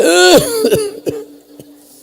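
A cough and throat clearing from a mosque congregation, a loud close bark followed by a few shorter coughs that fade out, with a faint voice at the start.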